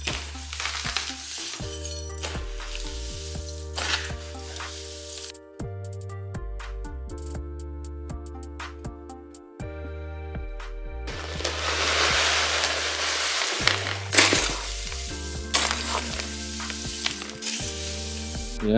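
Potting soil being mixed with horticultural charcoal in a backyard, a gritty rustling and scraping that comes in bursts over background music.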